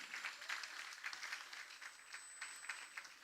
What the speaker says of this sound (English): Let us applaud them for the obstacles they have overcome